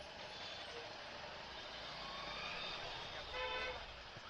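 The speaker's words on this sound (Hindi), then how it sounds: "देखिए अभी से ट्रैफिक आ गया." Busy city road traffic near the Geeta Mandir ST bus stand in Ahmedabad, a steady dense roar of engines with a brief horn toot rising near the end, heard close up and continuous throughout.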